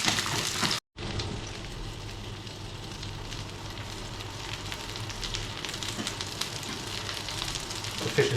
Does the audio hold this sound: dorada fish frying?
yes